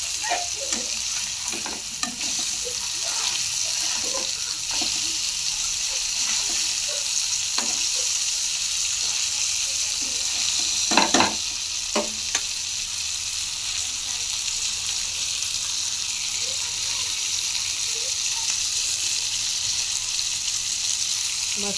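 Rani fish frying in a pan, a steady bright sizzle throughout with occasional stirring clicks and a brief louder burst near the middle.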